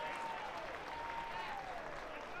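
Steady applause from a college baseball crowd after a strike call, a faint, even wash of clapping at a distance with no break.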